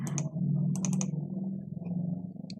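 Keystrokes on a computer keyboard as a label is typed, several quick, light clicks in short clusters over a steady low hum.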